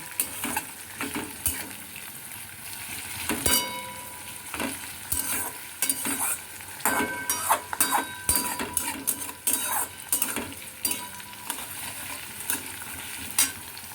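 Onions fry over low heat in a pan while a utensil stirs them, giving a soft, steady sizzle broken by irregular scrapes and metallic clinks against the pan, close by and without talking.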